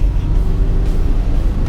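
The rear-mounted engine of a 1983 VW T25 Caravelle (T3 Vanagon) van drones steadily while driving, a loud, continuous low rumble with no talking over it.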